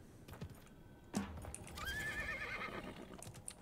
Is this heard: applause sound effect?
no